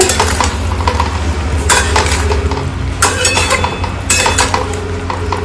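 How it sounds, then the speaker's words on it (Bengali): Marinated chicken stir-fried (kosha) in a pan on a home kitchen stove, with steady close sizzling and frying under repeated scraping and clinks of a spoon against the pan, no talking. "এখানে চিকেন কষা হচ্ছে।"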